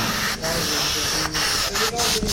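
Steady, loud hissing of a spray painting machine at a Ganesh idol workshop in Hamrapur, Pen, broken by a few short pauses.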